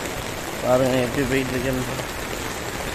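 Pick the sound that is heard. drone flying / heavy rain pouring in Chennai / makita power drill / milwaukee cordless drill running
heavy rain pouring in Chennai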